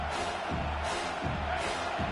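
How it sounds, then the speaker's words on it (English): Crowd noise swells inside a college football stadium during a Washington versus North Texas game, a broad continuous roar rising and falling in waves throughout, loud and dense with no single voice standing out. "This crowd rising up, sensing that its defense needs some help."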